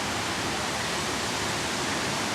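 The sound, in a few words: wind blowing outdoors during a storm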